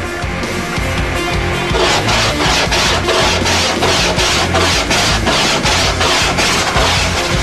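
Coarse black sandpaper scrapes repeatedly across a human skull in steady back-and-forth strokes, a loud, close, gritty rasping with an even rhythm and no talking.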